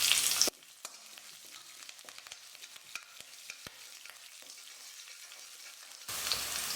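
Urad dal, chana dal and chopped green chilies fry in hot oil, giving a quiet, crackling sizzle with scattered sharp pops and stirring scrapes, framed by louder bursts at the start and end.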